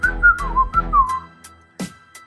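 A man whistles a short, wavering tune in an audio drama, the clear melodic notes close and prominent, followed by a few soft knocks and a sharp thump.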